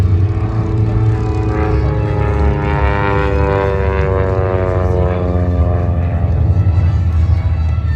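A Super Chipmunk propeller plane doing rolls and spins at an air show, its engine droning loud and steady with a wavering pitch throughout, close and continuous.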